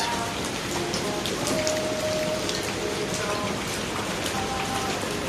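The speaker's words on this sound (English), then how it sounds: "I love the sound of rain." Steady rain pours down on a plant nursery with a dense hiss and scattered drops pattering on surfaces, continuous throughout with no letup.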